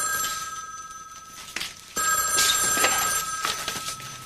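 A telephone bell rings in repeated bursts with tonal partials, clear and fairly close, with no voices over the rings.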